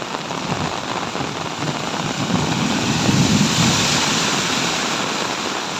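Heavy rain with strong winds in Nandyal district pours down in a dense, continuous hiss, loud and close, with no voices.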